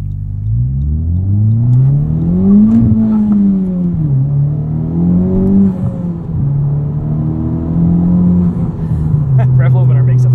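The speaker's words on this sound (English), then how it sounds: "Rev limiter makes a fun noise in first gear." A modified 2021 Honda Civic Type R engine with aftermarket exhaust revs hard again and again in first gear, bouncing off the rev limiter in a loud, rhythmic burble that keeps swelling and dropping back.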